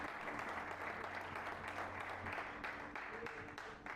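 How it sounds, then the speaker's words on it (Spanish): A seminar congregation for pastors applauds, a dense continuous patter of clapping heard at low level with a faint hum beneath. "Dale un fuerte aplauso a Dios."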